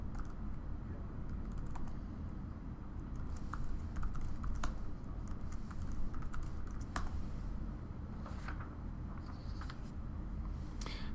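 Steady clicking of keys on a computer keyboard while changing a root password on a cloud server, irregular taps with occasional louder strokes over a low background hum, close and fairly quiet.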